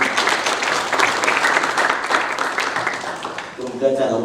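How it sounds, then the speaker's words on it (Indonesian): Lively applause from a crowd of children and guests at a children's congress in Kediri, dense close clapping that thins toward the end as a voice begins speaking. "Tepuk tangan dulu semuanya."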